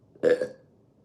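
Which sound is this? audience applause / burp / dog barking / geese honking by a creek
burp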